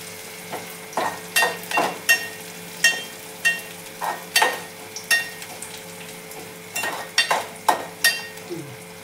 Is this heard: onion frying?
yes